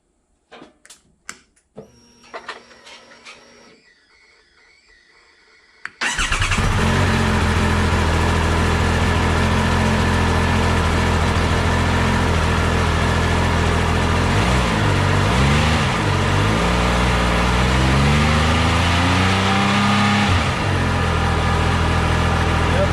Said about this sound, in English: if I were to start the bike and rev it up